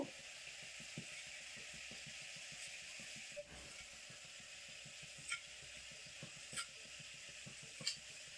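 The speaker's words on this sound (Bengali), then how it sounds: "এপাশে কিন্তু একটু উল্টে পাল্টে দেবো নিমকিগুলো, আর একটু ভাজা হবে" Nimki pastries fry in oil with a continuous, even sizzling hiss, punctuated by occasional faint clicks and light taps of a utensil.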